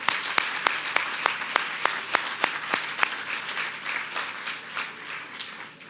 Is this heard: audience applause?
yes